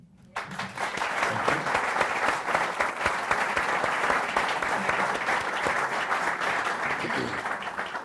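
A live audience applauds steadily to welcome Mike Sheldon of Curvature to a business mentorship evening, a dense, even wash of clapping that starts abruptly and holds strong throughout.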